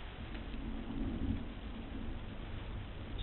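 Thunder follows a lightning flash during a storm in Vietnam, a low rolling rumble that swells around the middle of the clip, heard at a distance beneath steady rain.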